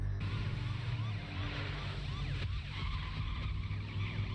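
A police car in Stranger Things whips through a quick skidding turn, tyres squealing over a loud, steady engine roar that fills the whole short stretch.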